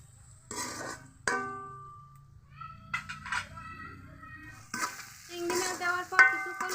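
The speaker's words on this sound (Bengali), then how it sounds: "চিংড়ি মাছ আলাদা করে ভাজবো না মশলার সাথে কষিয়ে নিব ভালো করে মাছগুলোকে" Shrimp sautéing with spices in a pan gives intermittent sizzles and scraping stir strokes, quiet at first and louder toward the end, close by.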